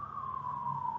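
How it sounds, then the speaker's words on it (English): An ambulance siren passes near a hospital in Oahu, Hawaii, a single sustained wailing tone sliding slowly downward as it goes by, steady and fairly loud with no talk. "I'm going to hold off while the ambulance goes by."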